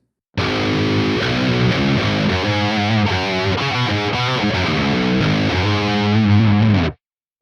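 Heavily distorted electric guitar through an Archetype: Nolly X amp simulator, pitched down eight semitones, plays a riff deep and murky, chugging steadily for several seconds before stopping abruptly.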